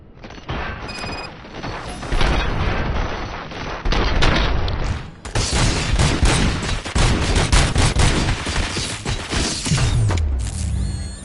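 Gunfire in the video game RoboCop: Rogue City on PS5, dense bursts of rapid shots with crashing impacts and mechanical clanks, loud and continuous over several seconds.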